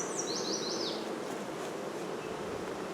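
Honeybees buzz in a dense, steady hum around an open hive outdoors, a constant close drone with a few high chirps early on and no voices.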